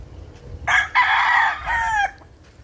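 A rooster, a chicken being treated for bumblefoot, crows once nearby, a loud drawn-out call in two strong bursts over faint background.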